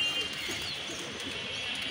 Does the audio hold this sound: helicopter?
no